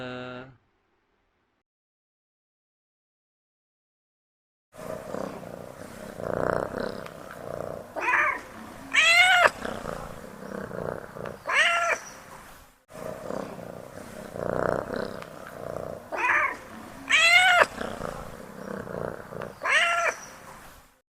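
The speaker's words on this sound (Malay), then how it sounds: "Kat rumah pun biasa dengar apa dia? Apa? Kucing." A cat meows loudly several times in a repeating sequence, with rough, drawn-out cries and a low growling undertone. The sequence plays twice after a few seconds of near silence.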